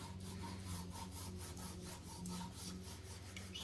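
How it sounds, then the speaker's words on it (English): Metal polish is rubbed onto a two-sided leather strop for knife sharpening, giving a steady, close, rhythmic back-and-forth scrubbing with even strokes throughout. "So you just rub that on."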